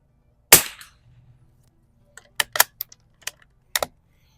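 A rifle fitted with a Riton 3 Conquer 6-24x50 FFP scope fires one sharp, loud shot while plinking at 50 and 100 yards, followed by a string of small, crisp mechanical clicks and taps.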